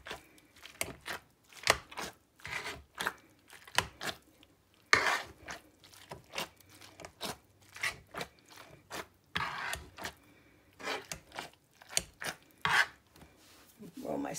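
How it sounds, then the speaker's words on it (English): Cooked pumpkin is gently mashed in a pan, giving soft, irregular squelching thumps and scrapes of the utensil against the pan, close and quiet, with no talking. "first I'm gonna start mashing gently, because I don't wanna ruin my pan"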